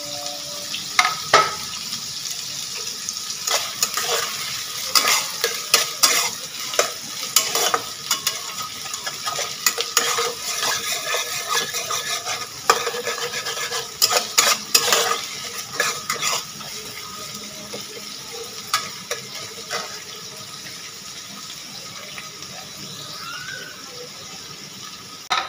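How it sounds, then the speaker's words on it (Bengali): Onions turning brown fry in a pan while being stirred, a steady sizzle punctuated by frequent scrapes and metallic clinks of a spoon, growing calmer toward the end. "পেঁয়াজ দেখুন একদম ব্রাউন হয়ে এসছে, খুব বেশি পোড়াবো না।"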